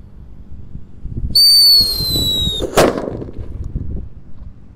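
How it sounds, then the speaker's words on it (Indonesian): A shrill rising whistle shrieks for about a second, then a firecracker lit in a hole in the ground bursts with a sharp loud bang, followed by crackling and scattered noise. "Lanjut kita nyalakan mercon yang menggelegar ya."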